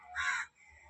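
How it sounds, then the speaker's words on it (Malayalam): A single crow gives a loud, close, harsh caw lasting about half a second, followed by quiet. "ഇതേ കാക്ക ഓടിക്ക്"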